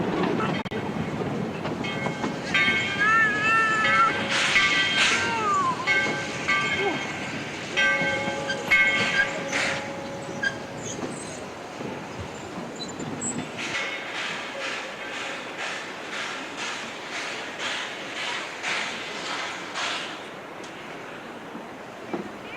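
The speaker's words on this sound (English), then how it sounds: "We will also be moving the locomotive from one end of the train to the other." A train on the Georgetown Loop Railroad rolls along the tracks with steady clickety-clack, metallic squeals and brake hiss, the rhythmic rail clatter growing more regular toward the end.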